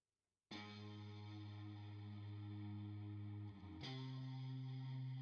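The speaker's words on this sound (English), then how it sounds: "It's basically playing through one note at a time with a really cool reverb / sort of vibrato sound" A sustained electric guitar note rings out with heavy reverb and a wavering vibrato, then a second note is struck and held, loud and alone.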